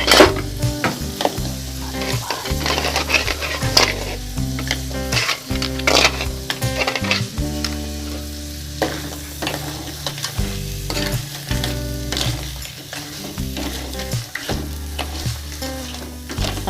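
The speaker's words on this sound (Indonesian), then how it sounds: "Aduk-aduk dulu ya, biar bumbunya meresap." Crab and spices being stirred and fried in a pan, with steady sizzling and repeated scraping strokes of a utensil throughout, under background music with no talk.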